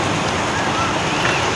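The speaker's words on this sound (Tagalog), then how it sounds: "Sobrang lakas ang alon." Strong sea waves crash and churn around a fishing spot, a loud steady roar of surf mixed with wind buffeting the microphone, continuous and close.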